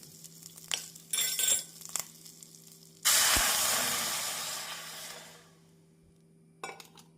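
Ground tomato paste hitting hot oil with dried red chilli and curry leaves for tomato rasam, a sudden loud hissing sizzle that slowly fades over a couple of seconds, with faint pan clatter before and after.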